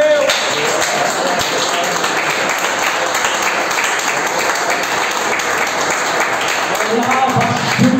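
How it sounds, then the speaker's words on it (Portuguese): A church congregation breaks into loud, continuous applause, close and dense, with voices mixed in beneath the clapping for the full stretch. "Eu vou aplaudir a Deus."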